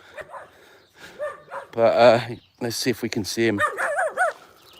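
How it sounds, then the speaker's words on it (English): A tiny dog yaps a few times in short, sharp bursts close by, mixed in with someone talking over it. "There's a little dog here barking."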